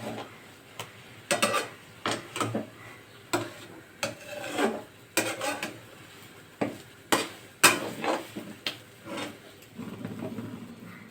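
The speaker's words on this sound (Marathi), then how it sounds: "याला चांगल्यापैकी हलवून घ्यायचं आहे." A spoon stirs rava vada batter made from semolina in a bowl, giving a series of short, scraping, thick swishes and knocks in an uneven rhythm, close and fairly loud.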